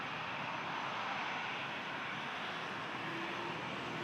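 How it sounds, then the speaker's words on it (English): Steady broadband roar of an Airbus A321 jet departing Toronto Pearson airport, a continuous engine rumble and hiss holding level and fairly loud throughout, with no voices. "Next departure is a A321 headed to Cancun."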